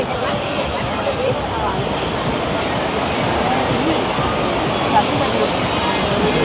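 Waves washing onto Kuta beach in Bali at sunset form a continuous, even wash of surf that stays at a constant moderate level without distinct individual breaks.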